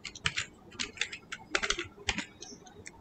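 Rapid clicking of a computer keyboard as code is typed, crisp keystrokes in quick irregular bursts with short pauses, close and fairly quiet, no voices.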